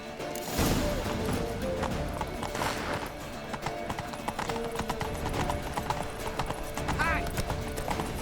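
Rapid hoofbeats of a galloping horse in The Witcher 3 clatter steadily, with a neigh partway through and voices talking over the action.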